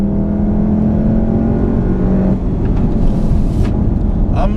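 A 2015 VW Golf R engine pulls hard under acceleration while driving, a loud steady drone with a rising whine that shifts pitch partway through as the car gains speed.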